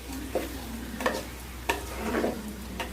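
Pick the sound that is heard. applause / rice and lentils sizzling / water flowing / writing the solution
rice and lentils sizzling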